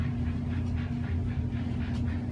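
A steady low rumble and hum of a Bachmann Spectrum 4-4-0 model train running on its track, continuous and fairly close, with faint rhythmic clatter and no voices.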